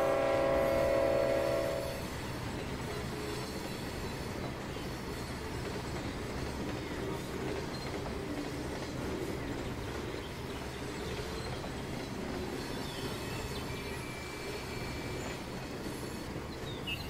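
Freight train in the Trainz 2019 rail simulator game rolling along the line, opening with a sustained horn blast that gives way to a continuous rumble of wagons with faint squeal, steady and moderately distant.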